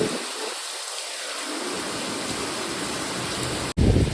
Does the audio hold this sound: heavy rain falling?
yes